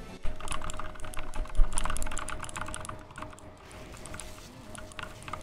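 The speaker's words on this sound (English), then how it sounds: "that was my click clack keyboard" Clicky mechanical computer keyboard being typed on steadily, a dense run of sharp clacks and key taps filling the whole stretch at close range, with no voices.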